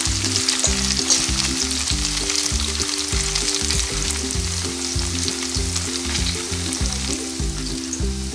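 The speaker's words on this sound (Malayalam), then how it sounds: "എല്ലാ ഭാഗവും ഫ്രൈ ആയി കിട്ടാനായിട്ട് നമുക്കിതൊന്ന് മിക്സ് ചെയ്ത് കൊടുക്കണം." Cauliflower pieces for Gobi Manchurian fry in hot oil, a steady loud sizzle broken by rhythmic scraping and clattering as they are stirred and mixed in the pan, with no talking.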